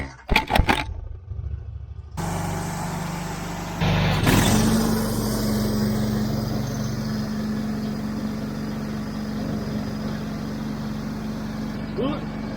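A vehicle rolling slowly on a flat tire that has come off the bead, with a steady engine drone and rumble that rises after a few clattering noises and then holds.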